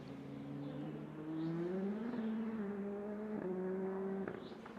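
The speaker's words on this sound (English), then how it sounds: "As the cars go whistling by." Race cars on track during Grand Prix of Road America qualifying: a loud, sustained engine whine rises and shifts in pitch as the cars pass close by, with no talking over it.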